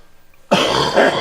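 A man's harsh, barking cough breaks out abruptly after a moment of quiet, loud and close, with a rough rasp that carries on into a second hacking burst.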